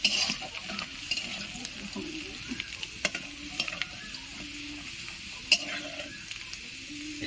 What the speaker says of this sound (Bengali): আদা কুচি একটু হালকা করে ভেজে নেবো